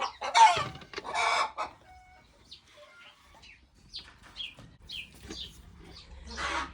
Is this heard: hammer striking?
no